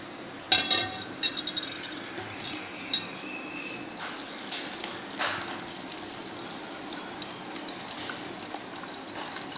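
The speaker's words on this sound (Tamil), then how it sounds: "இப்போ இது ஒரு பாத்திரத்தில் நம்ம வடிகட்டிக்கலாம்." Mint, ginger and lemon juice trickles and splashes into a vessel as it is strained, with clinks of a utensil against metal and a few sharper knocks, close and fairly quiet.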